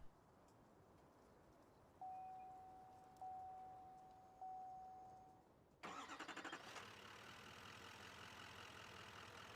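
In Farming Simulator 19, a Chevrolet Silverado diesel pickup gives three evenly spaced chime tones, then its engine cranks and settles into a steady, fairly loud idle.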